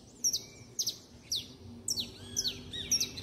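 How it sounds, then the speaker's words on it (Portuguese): A canary sings in repeated short, bright chirping phrases about every half second, close and clear over a quiet background. "Todo mundo fica na Santa Paz com esse canário maravilhoso."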